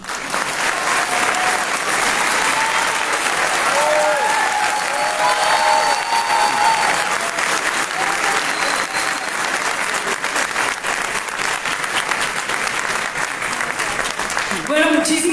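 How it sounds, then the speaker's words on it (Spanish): An audience at a book launch in Bogotá applauds in a long, loud, continuous wave of clapping mixed with crowd noise and voices, sustained for the whole stretch before tapering at the end. "Por favor, un aplauso para ellos."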